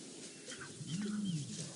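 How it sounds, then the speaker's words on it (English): Lions roar on safari after a brief scuffle between males and a pride with cubs, a deep drawn-out roar swelling near the middle over a low outdoor rumble, with other animal calls faint in the background. "Lions roaring."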